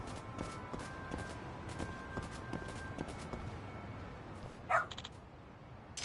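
A single short, sharp dog bark in the video game Lost Judgment, rising briefly out of quiet ambient footsteps and clatter, with no talking.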